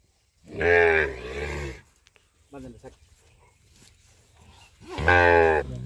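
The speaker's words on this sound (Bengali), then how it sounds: "মমিন চাচা আরো একটা সুন্দর সাইজের গরু দেখতেছি" Sahiwal cattle at a livestock sale low loudly twice, a long harmonic moo near the start and another at the end, with quieter shuffling and faint sounds between them.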